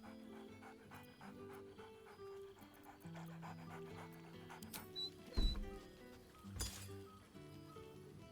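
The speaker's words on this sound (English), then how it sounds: "He's a level 12 doggy?" A dog panting in the video game Baldur's Gate 3, quick rhythmic breaths under a quiet musical background, with a couple of brief clinks and a sharp noise burst along the way.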